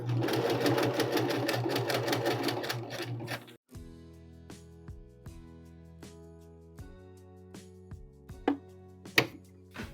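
Sewing machine stitching a fabric seam, a fast, steady mechanical whir for several seconds that then stops, followed by quieter clicks and light handling taps with a humming tone underneath.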